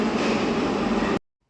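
A Yerevan metro train runs with a loud, steady low rumble and broad roar for just over a second, then cuts off sharply into silence.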